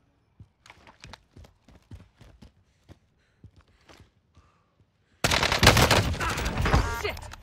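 Video game gunfire: a string of sharp, separate shots and footstep-like taps spaced through the first five seconds, then a sudden loud, dense burst of rapid firing and blasts to the end.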